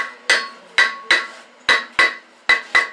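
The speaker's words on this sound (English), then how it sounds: "I've just been beating it with a hammer." Seven sharp metallic hammer strikes on a part of a 2011 Subaru Forester ring out in an uneven rhythm, each a loud clank with a brief ringing decay, close by and without talking.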